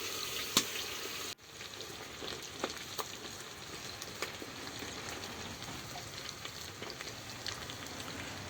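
Vegetables, collard greens, frying in hot oil, giving a steady soft sizzle with faint crackles and pops throughout, heard close up with no talking.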